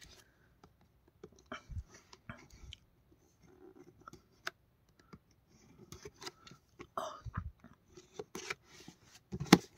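Cardboard packaging of a Dandadan Okarun figurine is handled and opened up close. Sparse rustles, taps, scrapes and small crinkles are faint and irregular, and a few louder handling knocks break the near-quiet.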